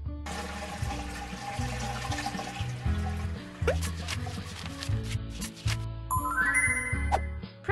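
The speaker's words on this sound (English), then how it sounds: "Press the button to flush the dirty." Cartoonish toilet flush from a princess room-cleaning video game, a watery swirl and gurgle played over a steady background music loop, with a brighter chime-like rise near the end.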